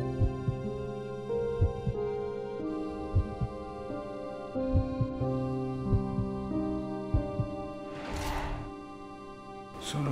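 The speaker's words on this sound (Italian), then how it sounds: "I battiti del mio cuore corrispondono delle coordinate." A low, regular heartbeat pulse throbs under a sustained musical hum for about ten seconds, with brief whooshing swells near the end; no speech.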